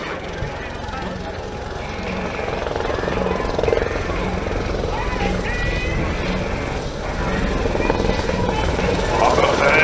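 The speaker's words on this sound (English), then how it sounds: "They use the EC-120 Colibri, which are used to train all Spanish helicopter pilots." A Eurocopter EC-120 Colibri helicopter's steady rotor and engine drone runs continuously and fairly loud at an airshow, with talk faintly underneath.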